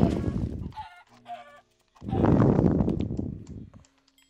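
Chickens clucking in the video game Minecraft, a few short clucks up close followed by a louder, longer burst of flapping or fluttering noise, with no talk over it.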